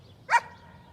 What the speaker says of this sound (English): Better go get this silly dog from barking at the neighbours.